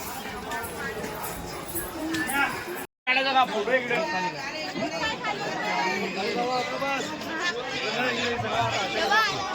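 A dense crowd of pilgrims at Jejuri temple fills the air with loud, close chatter and overlapping voices, a steady babble broken only by a brief dropout near the start.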